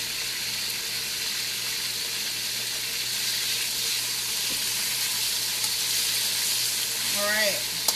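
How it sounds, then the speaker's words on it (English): Pork frying in sesame oil in a pan, a steady close sizzle that runs for the whole stretch, with a brief clink of the pan or utensil near the end. "now that this is getting nice and golden brown, we're going to turn our pork."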